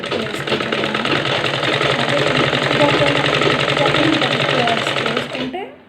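Sewing machine stitching a blouse lining, running in a fast steady mechanical rhythm, close and loud for several seconds before stopping, with someone talking over it.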